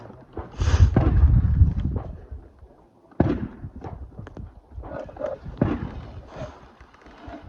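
Pistol shots from an 1880-era handgun, a burst of loud sharp cracks close by, followed by further scattered bangs and clatter with outdoor background noise.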